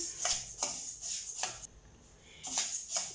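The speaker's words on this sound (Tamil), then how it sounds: "உளுந்தை நல்லா கொஞ்சம் வறுத்துக்கலாம்." Urad dal dry-roasting in a pan, stirred with a spatula in repeated scraping sweeps that bring dry rattling and rustling grains, close up and fairly quiet, with a short lull partway through.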